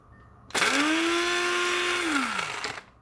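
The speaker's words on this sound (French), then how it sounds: "mixez pour obtenir un mélange bien lisse" A countertop blender purées cooked leek soup until smooth, a loud steady whirring roar that starts abruptly, holds for about two seconds with the motor pitch sagging slightly, then winds down and stops.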